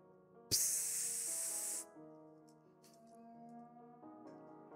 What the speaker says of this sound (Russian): Перцовый баллончик.